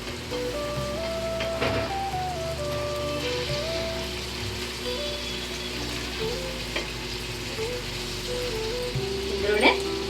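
Pieces of fish and onion fry in hot oil in a pan, a dense continuous sizzle and crackle with occasional stirring clatter, while a person talks over it.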